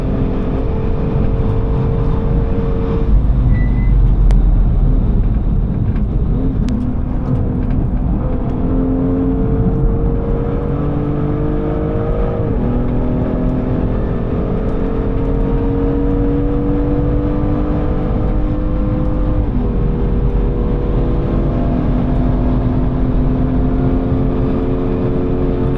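BMW M2 race car at full throttle on a track, engine howling loud and steady through repeated upshifts, with a broken front splitter on board.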